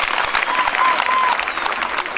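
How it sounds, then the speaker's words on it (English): Students in a school gathering applaud, dense rapid clapping from a group heard close and fairly loud for a couple of seconds. "Can the students, can you clap for the board?"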